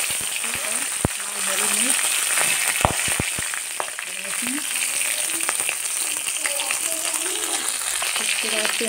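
Panch phoron spices sizzle and crackle in hot mustard oil in a kadhai, a steady fizzing hiss with sharp pops and spoon scrapes, while a person talks over it.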